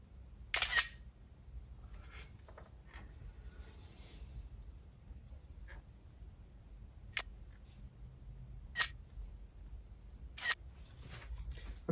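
A single-lens reflex camera shutter fires during product photography, giving several sharp, isolated clicks spaced seconds apart in a quiet room, one early and three later in quicker succession.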